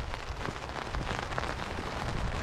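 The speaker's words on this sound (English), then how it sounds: "Light rain right now and doing its job just nicely." Light rain patters steadily on a tarp shelter set up outdoors for bushcraft, a dense close crackle of drops with no voices.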